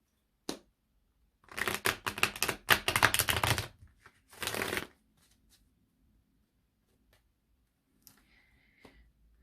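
Quick bursts of tarot cards being shuffled, a riffle of crisp flutters followed by a second shorter shuffle, then near silence with a few faint taps.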